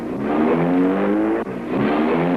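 A truck engine revving hard at high speed, a steady loud roar with rising harmonic tones that briefly dips near the middle before surging on again, with no voices present.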